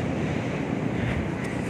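Fairly high sea waves wash near a shore by a road, making a broad continuous roar mixed with wind buffeting the microphone, with no voices.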